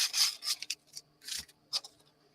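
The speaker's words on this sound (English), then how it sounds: "I'm just giving these a light sanding" Light hand sanding of small handmade mini books: a few short, soft scratchy rubbing strokes in quick bursts, close and quiet, with no talking.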